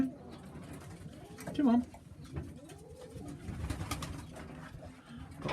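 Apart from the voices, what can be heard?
young pigeons cooing in a loft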